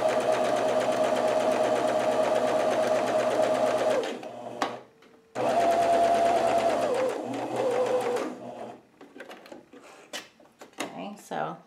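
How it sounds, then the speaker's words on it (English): A basic sewing machine stitches T-shirt fabric for a face mask in two loud, steady whirring runs separated by a short pause, followed by handling clicks and a voice. "I'm just going to show you the real simple way to do this with just a basic sewing machine"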